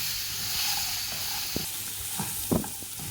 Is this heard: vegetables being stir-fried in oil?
yes